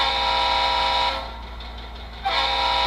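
An HO model locomotive horn plays through a small iPhone speaker: a sustained, slightly crackly blast that dips briefly in the middle then resumes, close and alone.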